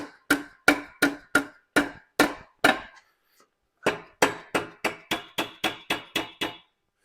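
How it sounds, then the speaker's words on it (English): A dead blow hammer taps an engine bed plate on a 6.0 Powerstroke: a run of seven sharp, evenly spaced knocks, a brief pause, then about nine quicker taps, close and clear with no talking. "So we're just going to give it a couple taps with the dead blow."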